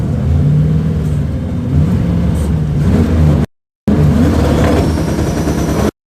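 A 351 Windsor stroker engine in a drag car revs and flares at the launch line with the clutch half out, a loud, continuous, uneven engine roar with rising surges, broken by one brief gap.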